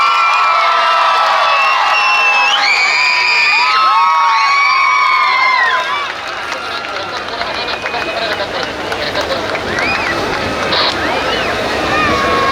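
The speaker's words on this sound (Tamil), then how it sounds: "ஒரு பெரிய கைத்தட்டுடன் லெட்ஸ் வெல்கம்" A concert crowd in Namakkal at a concert roars, applauds and cheers to welcome the singer, with raised voices and shouts riding over a dense, loud wash of crowd noise that holds steady throughout.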